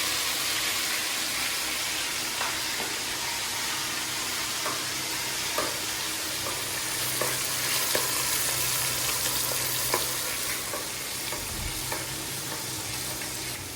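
Three fish pieces frying in ghee in a pan give a steady, close sizzle throughout, broken by occasional light taps and scrapes of a utensil, with no talking.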